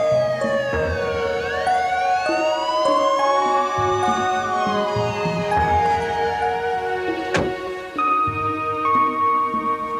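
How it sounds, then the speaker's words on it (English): Wailing ambulance siren sweeping up and down over background traffic, loud and fairly close throughout. "the ambulance wasn't far behind Constable Smith."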